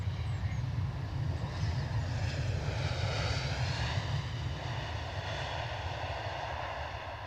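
Delta airliner at Edinburgh airport, a steady loud jet engine roar holding evenly, then easing slightly toward the end, with no talking.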